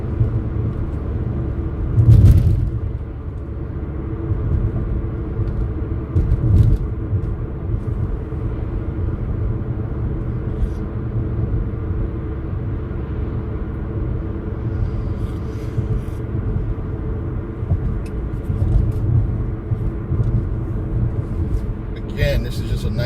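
Steady low road rumble from inside a car cruising on a drive from Waterbury toward Whalley Avenue in New Haven, Connecticut, a continuous close drone with faint bumps, and talking runs over it throughout.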